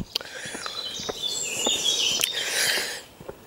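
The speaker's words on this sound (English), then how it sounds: "The blackbird's a very noisy bird." A blackbird sings in May countryside along an old Roman road near Hutton Wood, its bright, warbling phrases carrying over a quiet outdoor background with a few soft clicks.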